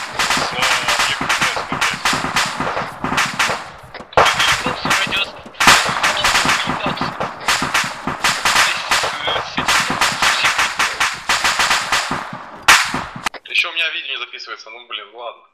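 Rapid bursts of gunfire in the video game ARMA 3 crackle repeatedly over several seconds, loud and close, with voices talking over them.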